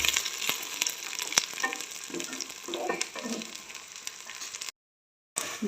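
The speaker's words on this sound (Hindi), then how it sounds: "भिंडी मैंने ऐड कर दी है। अब इसको फ्राई कर लेती हूँ।" Chopped okra frying in hot ghee in a pan, a steady close sizzle and crackle with occasional stirring clinks, no talking, briefly cut to silence near the end.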